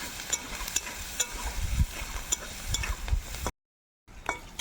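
Low, steady sizzle of garlic and green chili frying in oil, with scattered small crackles and soft stirring scrapes, briefly cutting out near the end before resuming.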